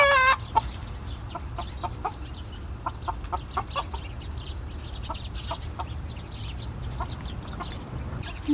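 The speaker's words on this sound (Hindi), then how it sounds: "ये दरख्त के ऊपर इतनी सारी चिड़ियाँ हैं।" Many small birds chirping in a tree at dusk, scattered bright calls repeating irregularly across a soft outdoor background, with a few clucking notes mixed in.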